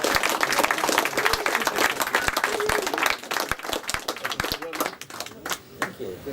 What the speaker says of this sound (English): let's have a round of applause for Leicester Retro Computer Museum